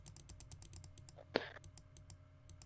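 Computer keyboard keys clicked in a rapid, steady series of faint, crisp taps, with one louder clack in the middle and a low hum underneath.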